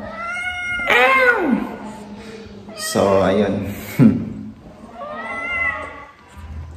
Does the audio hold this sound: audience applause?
no